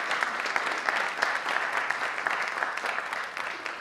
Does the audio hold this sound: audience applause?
yes